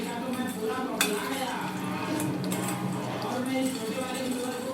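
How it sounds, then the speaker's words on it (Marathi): Fries being stirred with a spoon in a pan, with steady scraping and clinking of the spoon against the pan and one sharper clink near the start, continuous throughout and close by. "चमच्याने हलवून"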